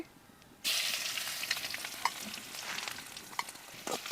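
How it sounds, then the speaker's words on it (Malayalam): Crushed ginger and garlic hit hot coconut oil in a pan, a sudden loud sizzle erupting after a quiet moment, then a steady crackling fry with occasional scraping stirs and pops. "ഇതിൽ ഒരു ടീസ് ഒരു ടേബിൾ സ്പൂണ് ഇഞ്ചിയും ഒരു ടേബിൾ സ്പൂണ് വെളുത്തുള്ളിയും ചതച്ചത് ഇട്ട് കൊടുക്കുകയാണ്"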